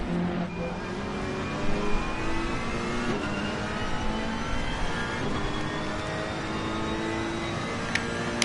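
Racing cars accelerating around Donington Park circuit, engines whining and rising in pitch as they pass at a distance, a steady layered motor drone with no talk.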